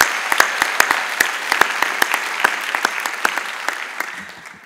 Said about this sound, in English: an extra applause is always good